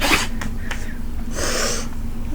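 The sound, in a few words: sneeze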